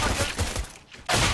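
Rapid bursts of gunfire erupt in a shooter video game, a dense, loud volley that briefly drops off before another burst resumes.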